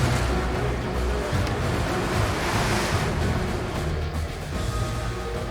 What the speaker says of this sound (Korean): 점점 파도가 거세져 배로 롬폰에 접근하기가 쉽지 않습니다.